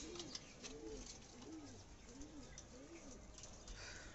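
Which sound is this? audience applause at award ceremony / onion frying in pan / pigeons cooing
pigeons cooing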